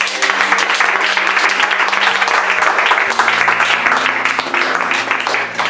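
Church congregation applauding together, a steady, dense wash of clapping that fills the room throughout, with a low sustained musical tone underneath.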